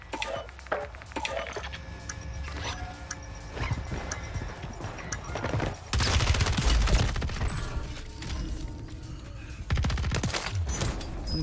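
HRM9 submachine gun firing in Warzone, with rapid automatic bursts in several separate strings, a louder stretch partway through, and brief talk between the bursts.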